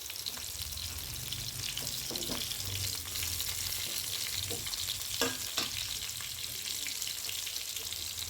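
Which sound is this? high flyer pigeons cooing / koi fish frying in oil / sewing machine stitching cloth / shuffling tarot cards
koi fish frying in oil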